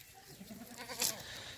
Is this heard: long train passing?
no